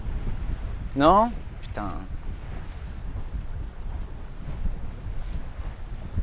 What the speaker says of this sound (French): il y a une belle bourrasque là quand même là